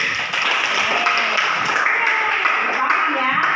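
A classroom of schoolchildren clapping together, a dense, even patter of many small hands held steady from start to finish.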